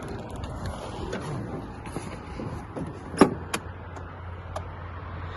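After a sharp click, the three-cylinder engine of a Kubota GL 200 Japanese mini tractor starts and settles into a low, steady idle with a few faint mechanical knocks.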